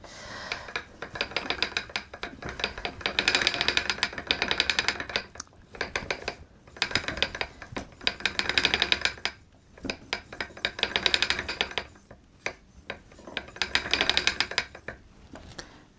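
An antique spinning wheel in need of oil turns in repeated bursts, each a rhythmic clicking and squeaking rattle of the mechanism lasting a second or two, close and fairly loud, with short pauses between and no talk.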